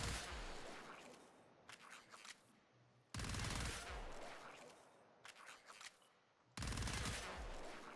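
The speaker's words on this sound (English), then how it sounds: "So, burst fire with the Terra Trencher." Burst fire from the Terra Trencher in Warframe: two loud, close salvos of rapid automatic shots, each followed by a trailing rumble with scattered smaller impacts, no voices over it.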